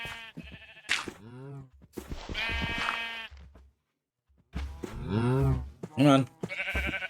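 Sheep bleat in the Minecraft video game, several wavering, nasal calls in bursts with short pauses, fairly close and clear, while a person talks in between.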